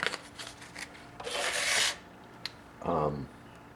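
A 60 or 80 grit sanding block is rubbed by hand over wood in two close, scratchy strokes, the first longer and brighter, with quiet handling noises around them.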